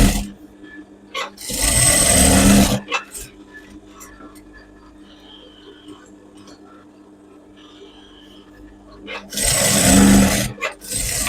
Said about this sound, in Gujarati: ધારની સિલાઈ કરી નાખવાની નીચે. ધારની સિલાઈ એકદમ વ્યવસ્થિત કરવાની, અસ્તર બહાર ના દેખાય એવી રીતના.